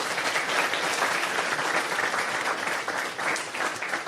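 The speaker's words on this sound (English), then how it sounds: "Round of applause." An audience applauds at an evening talk on entrepreneurship, a sustained, even burst of clapping filling the room with no speech over it.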